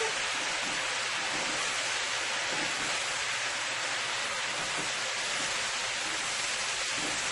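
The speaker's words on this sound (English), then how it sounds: "I'm going to go in with my cabbage. And give this a nice big toss." Cabbage tossed in a hot pan of chicken and carrot stir fry gives off a dense, constant hiss of sizzling, loud and close, running unbroken with no speech.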